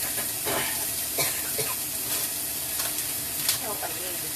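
Meat sizzling in a little oil in a pan while being stirred, a continuous loud fry hiss broken by repeated scraping stir strokes, close up.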